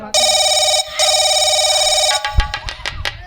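A telephone ringtone plays loudly and clearly, a bright electronic tone repeating in two long bursts with a brief gap, then breaking off into short clattering knocks and noise at the end.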